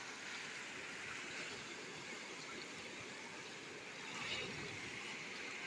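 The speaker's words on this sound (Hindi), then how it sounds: "आप पानी की आवाज़ सुन सकते हैं और फील करें" A mountain stream flows with a faint, steady broadband rush of water, even and continuous, heard from a short distance.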